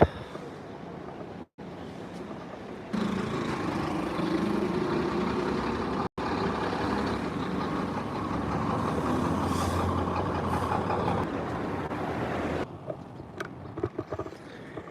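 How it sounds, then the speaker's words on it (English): Heavy lorries roll past on a road in Vung Tau, Vietnam, at 6 a.m., a loud, broad engine roar that swells in near the start and holds steady before falling away to quieter street ambience. "Watch out for the lorries, they ain't gonna stop."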